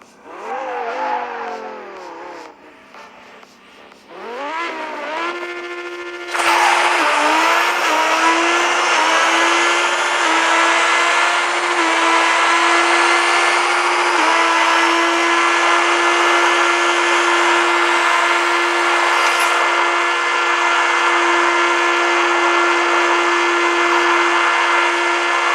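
Lamborghini Aventador engine in a racing video game, a few short revs then a sustained high-pitched wail that holds loud and steady through the rest.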